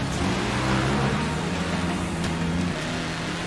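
A car engine in Forza Horizon 4 hums and revs steadily. The tone stays close and fairly loud throughout, with no talking.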